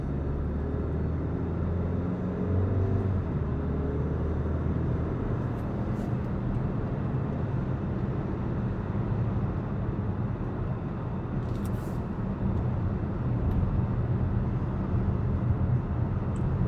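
Cabin noise inside a 2022–2023 VW Tiguan SEL R-Line in slow stop-and-go traffic: a low, steady road and engine rumble with faint tire hiss and a few brief clicks, no voices.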